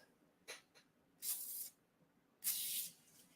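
Two quick hissing bursts from a spray bottle of clear cleaner, each lasting about half a second, close and fairly loud, with faint handling clicks before them and no talking.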